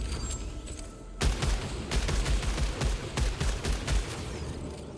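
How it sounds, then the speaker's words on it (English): Rapid modified sidearm gunfire in the sci-fi shooter Returnal, a dense run of loud, quick shots with booming low-end thumps after an opening moment of ambient noise. "I mean, I can just shoot it as fast as I want, right?"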